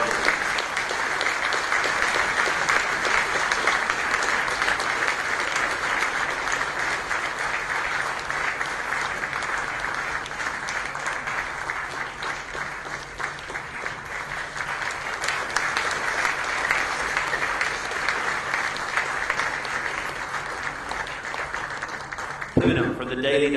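Sustained audience applause at an Indian social entrepreneur awards ceremony, a dense, even clatter of many hands clapping continuously for over twenty seconds, ending with a voice over a microphone.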